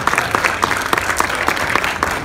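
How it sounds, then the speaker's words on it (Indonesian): Guests at a Crown Dinner gala in Surabaya, Indonesia, clap loudly and briskly, a close, dense burst of applause with sharp individual claps, no speech over it. "beri tepuk tangan buat Anda semuanya"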